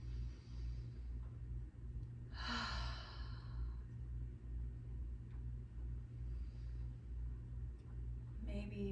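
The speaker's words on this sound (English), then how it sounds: "Deep, long breaths in through your nose and out the nose a few times until you're ready to exhale through your mouth." A slow, breathy exhale through the mouth during a gentle yoga breathing exercise, one soft sigh-like rush of air standing out over a steady low rumble, with a fainter breath following later.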